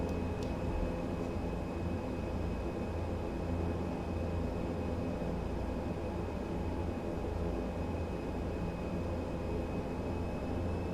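ATR 72-600 turboprop engines in a flight simulator, a steady loud drone with a constant high whine holding even throughout as thrust is added.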